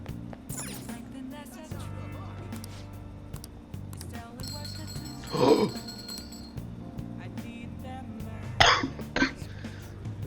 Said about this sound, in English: I coughed, but